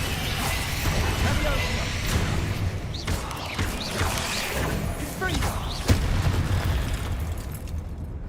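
Bombarda blasting spell going off in the Hogwarts Legacy video game, a string of booming explosive bursts over a dense, rumbling game soundtrack with sharp impacts around the middle and a loud hit near the end.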